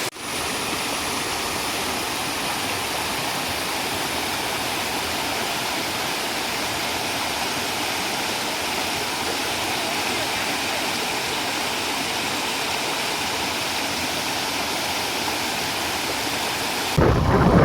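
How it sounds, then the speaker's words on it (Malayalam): A roadside waterfall on the Muttom–Kanjar–Vagamon route roars close and loud in a dense, unbroken rush that holds steady for the full length, with no voices over it. "ഇത് ശരിക്കും മുട്ടം കാഞ്ഞാറിന്ന് വാഗമൺ പോണ റൂട്ടിലാണ് ഈ വെള്ളച്ചാട്ടമുള്ളത്."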